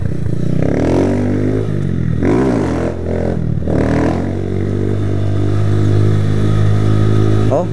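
A nearby small Fortuna motorcycle engine drones loudly, revving up and down in pitch as it rides along.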